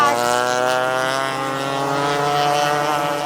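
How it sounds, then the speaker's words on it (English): A racing kart's exhaust note sustains a bright, buzzing harmonic whine as the kart passes on a track, loud and steady with a slight pitch drift, while faint speech sits underneath. "then you could hear her exhaust a mile off"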